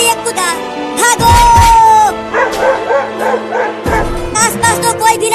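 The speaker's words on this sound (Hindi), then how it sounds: "अरे ये कुत्ता भागो।" A dog barks and yelps in a quick run of close, loud calls, mixed with upbeat background music and sound effects in a Hindi comedy skit.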